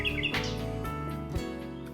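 A nightingale sings in quick chirping, warbling trills over a continuous musical backdrop, with bright notes repeating throughout.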